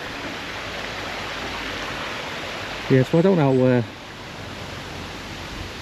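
Dyserth waterfall in Wales in autumn, running low after a drought, gives a steady broadband rush of falling water throughout, with a voice talking briefly over it midway.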